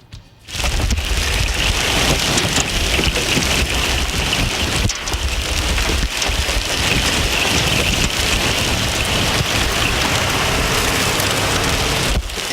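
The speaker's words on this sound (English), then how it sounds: "You can see the hail just smashing to the ground." Hail and heavy rain pound the ground in Stephenville, north central Texas, a loud dense continuous roar of impacts lasting throughout, with no voices.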